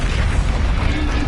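A Confringo fire-spell blast in the Hogwarts Legacy video game: a loud, dense, rumbling boom that fills the whole short moment without a gap.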